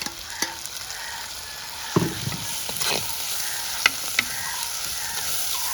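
Tomatoes sauté in a pan with a quiet, steady sizzle, broken by a few sharp scraping clicks from a spoon or spatula as they are stirred.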